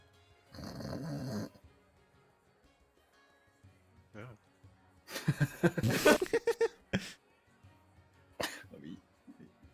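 A man imitates snoring with his voice: several rough, throaty, rattling bursts, loud and close, separated by quiet pauses.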